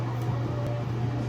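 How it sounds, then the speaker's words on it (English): A steady low hum with a faint whirring drone, like an exhaust fan running nearby, constant and unbroken with no talking. "my bathroom sounds like this because I have a fan that automatically turns on when you turn the light on"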